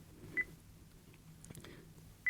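Sony TX650 camera menu beeps, two short, clean electronic tones separated by about two seconds, with faint button clicks between them.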